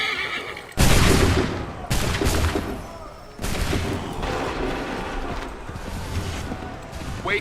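A musket volley fired on command in Assassin's Creed III, a massed crash of shots followed by further ragged volleys, with horses whinnying and voices around them.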